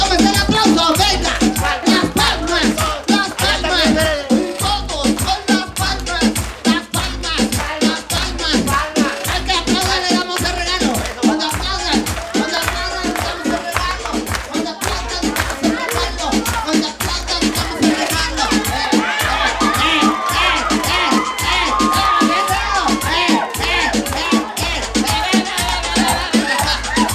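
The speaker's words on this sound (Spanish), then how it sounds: "que se escuche el aplauso de todo el público" A large audience at a live clown comedy show keeps up loud, continuous applause and crowd noise, steady and dense from start to finish with no breaks.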